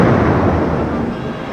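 A big storm breaks up a ship as a children's story sound effect, a loud, dense rumbling burst like a crash and thunder that fades slightly over its short length, with no voices.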